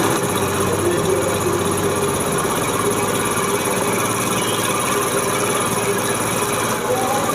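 A Honda CD 70 motorcycle fitted with an HHO hydrogen kit runs at high RPM, giving a loud, steady, continuous engine drone with a buzzing, vibrating quality that holds constant without pauses throughout.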